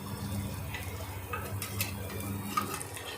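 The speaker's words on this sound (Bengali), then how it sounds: "দিয়ে তারপরে 2-4টে রসুন দিলাম থেঁচো করে।" Garlic cloves and black cumin fry in hot oil, giving a steady low sizzle with light stirring clinks, close and continuous throughout.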